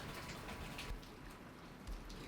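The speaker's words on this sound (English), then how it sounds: "you can see that it's chucking it down outside" Heavy rain pours down outside a paint shed, a dense, steady wash with scattered drops, heard faintly from indoors.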